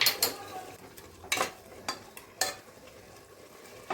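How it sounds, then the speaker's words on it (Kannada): Masala for tomato bath frying and being stirred in a pan, with sharp scraping and clinking strokes of a spoon against the metal at irregular intervals over a low, steady sizzle, close by and without talk. "ಇದು ಮಸಾಲೆ ವಾಸನೆ ಚೆನ್ನಾಗಿ ಫ್ರೈ ಆಗಬೇಕು"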